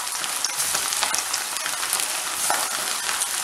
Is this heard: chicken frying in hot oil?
yes